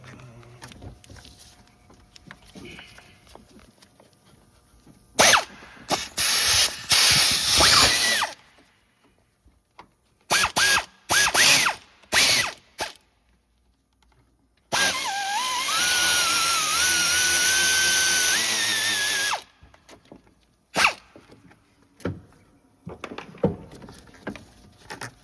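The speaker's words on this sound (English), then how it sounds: "10 mil bolts, let's get those out." A power tool removes 10 mm bolts from the water pump of a 2011-2015 Chevy Cruze 1.4T, with loud, close bursts of whirring, one long run with a rising and falling pitch, separated by quieter gaps of handling noise.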